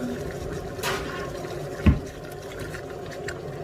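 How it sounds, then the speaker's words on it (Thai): A little water is poured into a pot holding leftover scraps while cooking a coconut-milk curry, giving a brief close splash amid kitchen background noise. "เศษเศษที่เหลือก้นพกแล้วก็ใส่น้ ำน้ำลงไปนิด นึง"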